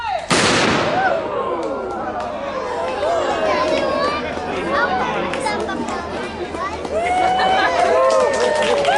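A gun fired at a Fort Langley May Day demonstration gives one sharp loud blast at the start, followed by crowd chatter, cheering and voices talking over an outdoor background.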